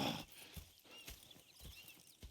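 Horses in the Red Dead Redemption 2 video game clip-clop at a slow, uneven pace, with soft hoof thuds and a faint whinny against quiet ambience.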